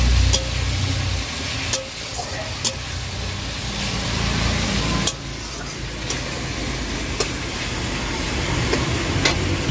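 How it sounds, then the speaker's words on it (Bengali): Mutton fat and liver curry stir-frying in a pan gives a continuous loud sizzle, with a few sharp spatula scrapes scattered through and no talking. "এটাকে আবার আমি একটু কষিয়ে নেবো ভালো করে"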